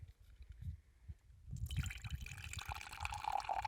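Wine poured into a glass at an Outback campsite: a soft, muffled start, then a steady, close gurgling stream of liquid that rises in pitch as the glass fills.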